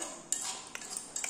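A small toy cooking pot is stirred with a utensil, giving light metallic scrapes and a few sharp clinks against the rim, soft and close, with no talking.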